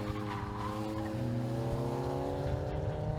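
Race cars at the Anglesey Coastal circuit pits, engines droning with rising and falling whine, one car pulling in nearby, loud and continuous with only faint talk.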